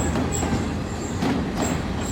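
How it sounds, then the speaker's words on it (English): A small, crowded passenger train pulls into Haputale station in Sri Lanka with a continuous rumble, rhythmic wheel clatter and high metallic squeals from the wheels, fairly close. "Our train has arrived."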